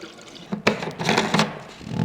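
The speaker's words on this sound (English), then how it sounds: "we need to mix about 10 liters of coolant into this tank here" Coolant and distilled water being poured into a BMW 335i's tank: a close, uneven liquid splashing and gurgling with a few sharper bursts, rising and falling in intensity over a couple of seconds.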